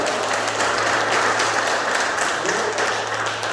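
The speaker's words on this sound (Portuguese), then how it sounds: "Você pode dar uma salva de palmas ao Senhor" A church congregation claps for the Lord during a Portuguese-language celebration service, a steady, dense wash of hand claps filling the room at an even level throughout, with a low hum beneath.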